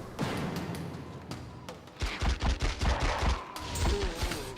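Gunfire in the video game The X-Files: Resist or Serve, a rapid string of sharp shots in the second half after scattered earlier bangs, loud and close.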